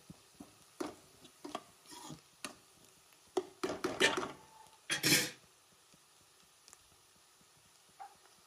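Onions with turmeric and chili being stirred in a pan: scattered spoon knocks and scrapes against metal, a few louder clattering bursts midway, then quiet with occasional light taps, fairly faint overall.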